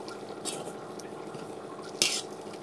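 A spoon stirs powder mixed with water in a cup or bowl, making soft swishing sounds with faint clinks and one sharp scrape near the end; no speech.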